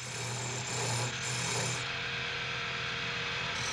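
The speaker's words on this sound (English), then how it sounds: "In scraping, the tool is held at right angles to the timber." A wood-turning gouge scrapes timber for a traditional Irish spinning wheel part held on a lathe, giving a steady, close rasping rub that runs continuously with slight surges.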